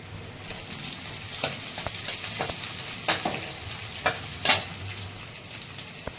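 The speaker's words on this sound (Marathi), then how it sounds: "कांदा कापून घेतलेला आहे त्यामध्ये जिरी मोहरी टाकून घेतली" Chopped onion fries in ghee with cumin and mustard seeds for upma, giving a steady, close sizzle with scattered spatula taps and scrapes against the pan.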